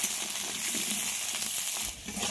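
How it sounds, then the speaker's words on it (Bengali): Small potatoes fry in oil, giving a continuous bubbling sizzle with soft crackles and a brief dip before resuming. It is moderately loud and close, with no voices. "খুব ভালোভাবে আলুগুলোকে ভেজে নেব।"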